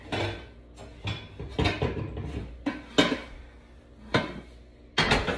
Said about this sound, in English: Let me get my pan ready.